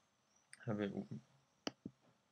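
A few sharp mouse clicks, close and crisp, spaced apart after a short burst of speech.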